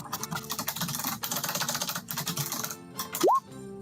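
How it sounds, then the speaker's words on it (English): Rapid, dense computer-keyboard typing during a tabletop Starfinder session, a continuous clatter of keystrokes for about three seconds before a short rising electronic boing over quieter background. "that's a lot of typing"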